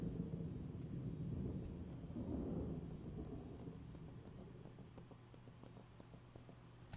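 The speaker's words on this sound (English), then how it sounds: "About to rain." Thunder and rain in the video game Seen: a low, distant rumble rolling through the first few seconds over a soft rain hiss, fading into quieter steady patter, fairly faint overall.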